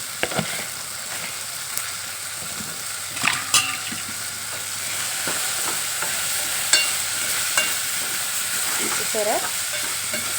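Mutton sizzles steadily as it fries in a pan with chili powder and salt, with a spoon stirring and scraping through it; the frying stays close and fairly loud throughout, with one brief spoken word.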